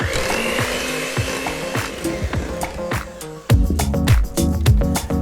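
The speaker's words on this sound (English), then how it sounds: "Continue to beat these egg whites until they've reached stiff peaks" An electric mixer beats egg whites for pavlova, a steady close whir broken by rhythmic scraping taps against the bowl that grow louder and busier partway through.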